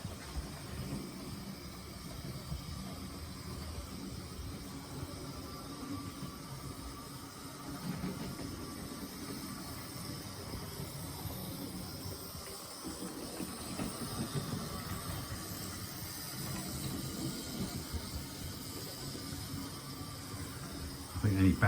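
A cheap Hornby toy model locomotive runs along its track, giving a steady, faint whirring rumble with a hiss that continues throughout without pause.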